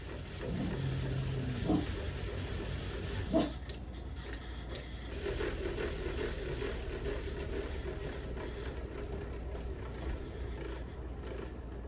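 An antique 38-inch Fasco World's Fair Model 948 fan runs on high with a steady loud drone, its badly shimmying blades adding rough scraping rattles and a couple of sharp knocks.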